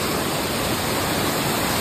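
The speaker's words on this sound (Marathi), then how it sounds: "तरी पण पाणी अजून स्पीडने येते बघा. प्रेशर वाढलाय पाण्याचा." Water rushes down Malanggad waterfall as a dense, steady, close roar of noise that holds unbroken throughout.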